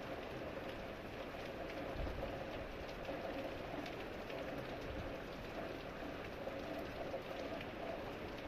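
Sudden rain falls in a steady, soft, continuous patter at moderate distance, an even wash of drops with no breaks.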